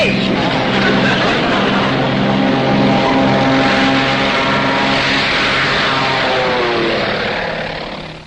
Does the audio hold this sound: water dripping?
no